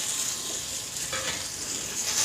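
Taro root pieces frying in an oil pan for a pepper fry, giving a steady close broadband sizzle with light stirring throughout and no talk.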